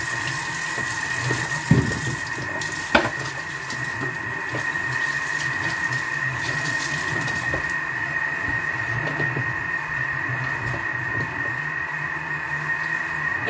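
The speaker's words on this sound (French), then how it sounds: "alors je vais me laver les mains" A kitchen tap runs steadily while hands are washed under it, making a continuous moderate gush with a couple of brief clunks early on.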